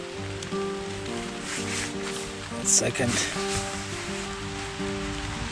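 Heavy rain falls steadily in a rainforest, a constant hiss of drops on leaves and surfaces, while a person talks nearby and small handling noises come and go.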